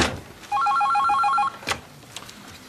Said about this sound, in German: Geht hier keiner ans Telefon?